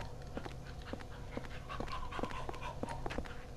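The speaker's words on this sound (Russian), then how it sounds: "то, что здесь-то были все время собаки" A dog in the video game Silent Hill 4 pants and whimpers with short, rhythmic yelps and breaths, close and steady, with no voices.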